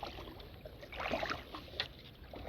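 Paddle strokes in the water from a Field & Stream Shadow Caster 123 kayak, a soft swish and splash swelling near the middle, with light dripping and trickling around it, faint and close.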